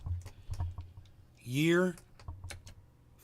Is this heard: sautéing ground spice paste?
no